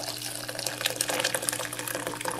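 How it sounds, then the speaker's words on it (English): Boiling water is poured into a homemade laundry soap booster mixture, a steady splashing, gurgling stream running close and continuous for the whole stretch. "And I'm going to add my boiling water"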